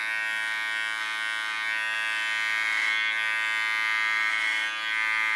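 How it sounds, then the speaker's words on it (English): An electric hair clipper fitted with a 3 mm comb hums with a steady, bright buzz while cutting very short hair, holding a constant tone that dips slightly near the end, with no talking. "Holding my clipper on a 2 millimeters position. Comb it on the line where I left with a 3 millimeter comb."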